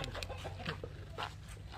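Chickens clucking on a Thai rural homestead, a steady string of short close clucks over a constant low hum, with no voices.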